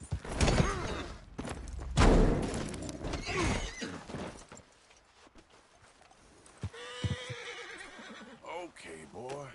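A horse in the Red Dead Redemption 2 video game gives loud, close whinnies and neighs alongside clip-clopping hooves and thuds, with a voice heard among the game sounds.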